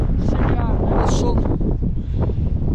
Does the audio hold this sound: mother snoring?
no